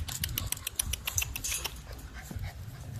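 American Bully puppies snuffling, panting and making small feeding noises close by, with light clinks and a busy, continuous low rumble underneath.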